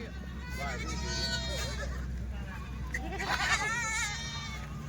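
A Rajasthani buck goat bleats several times at a livestock market in Dhule, Maharashtra, with a steady crowd murmur and someone talking over the calls.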